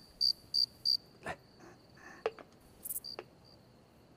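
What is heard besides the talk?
crickets chirping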